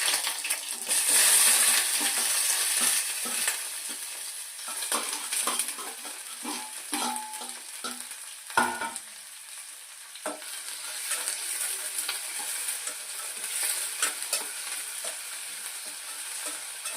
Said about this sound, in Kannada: ಇದನ್ನು ಸ್ವಲ್ಪ ಫ್ರೈ ಮಾಡ್ಕೊಳ್ಬೇಕು.